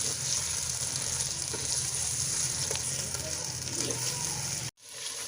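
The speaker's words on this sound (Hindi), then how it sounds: "चिकन को हमने 5 मिनट तक फ्राई करना है।" Chicken with ginger and garlic frying in a clay pot, a loud continuous hiss and crackle of hot oil that runs steadily close up and then cuts off abruptly near the end.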